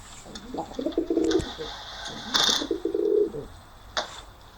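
Pigeons coo close by in two soft, rolling phrases, low burbling calls with a few faint clicks and rustles between them.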